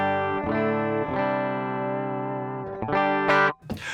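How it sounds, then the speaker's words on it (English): A clean electric guitar DI signal rings out in sustained strummed chords, changing a few times, dry and close, ending with a short scratchy burst. "We have a clean guitar DI, which sounds something like this."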